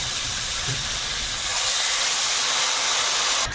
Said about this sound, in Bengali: আলুটা ভালো করে ভেজে নিয়েছি এবারে জল দেবো